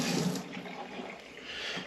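Ramps rinsed under a running tap, a steady broadband rush of water splashing close by for about two seconds with no talking.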